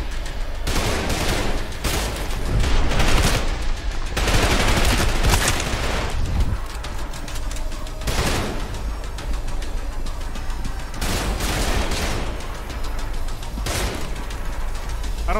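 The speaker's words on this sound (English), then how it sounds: "Oh my god, the shooting is insane." Rapid gunfire in the Trepang2 video game, repeated loud bursts of shots and fusillades arriving in clusters across the whole stretch, with occasional impacts and no talking.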